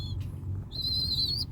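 Young racing pigeons in a loft give low murmuring coos, topped midway by a thin, sustained high whistle-like call lasting under a second, close and fairly quiet.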